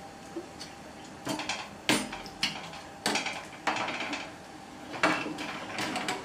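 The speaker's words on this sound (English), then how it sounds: "It's time to add the wort chiller." Metal clanks and knocks come in irregular bursts as an immersion wort chiller goes into a beer boil pot, each clatter short and close against a quiet background.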